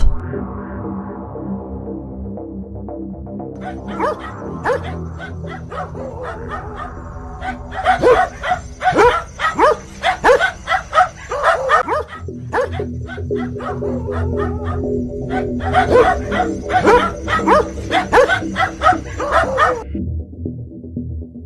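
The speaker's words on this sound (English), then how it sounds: "it is a very creepy video of 2 dogs fighting" Two dogs fight, with bursts of sharp barks, yips and whimpers coming in rapid irregular clusters, loud and close, after a quieter opening.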